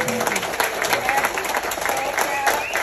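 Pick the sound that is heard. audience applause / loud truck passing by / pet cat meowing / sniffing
audience applause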